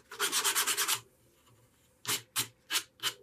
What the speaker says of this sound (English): That's just when you sand over the edge here,